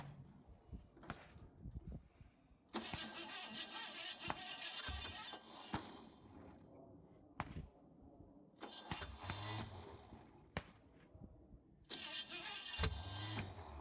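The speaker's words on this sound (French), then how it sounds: "Il va essayer de la démarrer. Voyons si elle démarre, Greg." Chevy V8 car engine cranking without catching: repeated bursts of whirring starter grind lasting a few seconds each, separated by pauses with faint background sounds, moderately close.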